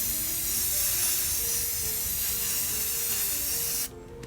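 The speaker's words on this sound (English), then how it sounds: "and now we spray the other side" Spray paint hissing onto a glass star-shaped container: one continuous, close, steady aerosol spray lasting about four seconds before it cuts off.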